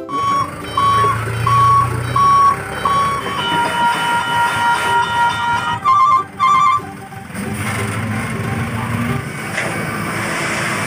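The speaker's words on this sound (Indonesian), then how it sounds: "Di sini ada truk dam pasir." A toy sand dump truck gives off repeated reversing beeps in a steady on-off rhythm, loud and close, with busy mechanical toy sounds and noise around it.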